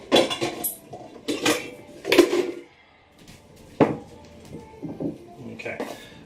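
Butter and sugars are creamed in a bowl with clattering utensil strikes against the bowl in uneven bursts, interspersed with clinks and brief quieter gaps, close and moderately loud.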